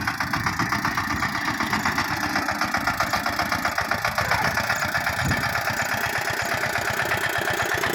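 A tractor engine runs steadily at idle, a loud close diesel chugging with an even rapid pulse that holds for the whole stretch.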